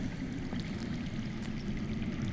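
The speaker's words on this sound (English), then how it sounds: "That's water. I hear water. From underground." Underground flowing water in the Telltale Game of Thrones video game: a continuous, even rushing and burbling of a hidden stream that fills the scene without a break.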